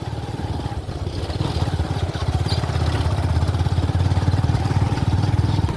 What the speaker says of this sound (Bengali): সুন্দর বাইক রাইড করতেছে